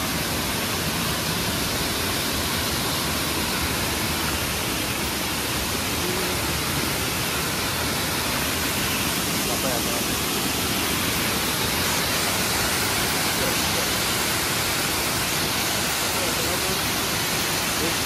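The Ambutheertha or Acchakanye waterfall gives off a loud, constant wash of rushing water, dense and unbroken throughout, with voices faintly mixed in.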